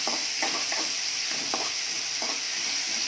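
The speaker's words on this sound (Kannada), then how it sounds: "ಕರಿಬೇವು ಒಂದು ಸ್ಪೂನು, ಶುಂಠಿ ಬೆಳ್ಳುಳ್ಳಿ ಪೇಸ್ಟು ಇಷ್ಟು ಹಾಕೊಂಡು ಫ್ರೈ ಮಾಡ್ಕೊಡ್ಬೇಕು" Curry leaves and ginger garlic paste fry in a pan with a steady sizzle, broken by several soft stirring scrapes at irregular intervals, with no talk.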